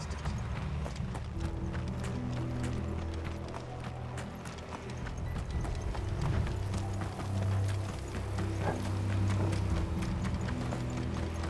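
Horses trotting in the video game Final Fantasy XVI, a steady rhythmic clip-clop of hooves that runs throughout, close and prominent, layered over a low sustained score and occasional mechanical creaks.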